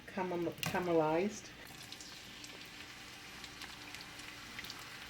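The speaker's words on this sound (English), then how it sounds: "It's about a full cup of chopped red onions, and saute them until they get slightly caramelized." About a cup of chopped red onions sautéing in a pan, a soft, even sizzle that follows a brief voice at the start and then carries on steadily on its own.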